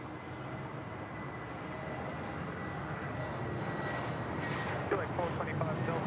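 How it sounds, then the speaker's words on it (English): A Jetstar Airbus A320 departs from Sydney Airport with a sustained jet engine roar that builds gradually and stays strong, with faint talk and radio chatter near the end. "Let's catch up with our Jetstar A320 friends here, departing in front of us."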